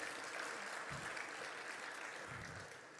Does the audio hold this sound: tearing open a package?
no